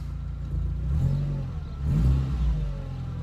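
A 2003 VW Golf GTI 20th Anniversary Edition runs on a trailer, its engine idling and then revving twice in quick swells, close and moderately loud with no talking.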